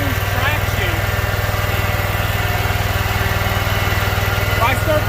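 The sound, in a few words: lawn mower engine running on a hill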